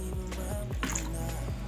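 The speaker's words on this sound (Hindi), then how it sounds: "और आधा कप के बराबर हम इसमें वाइट सिरका डालेंगे।" White vinegar, about half a cup, poured onto cut chicken liver and gizzards, giving brief close splashing and squishy liquid sounds with no talk.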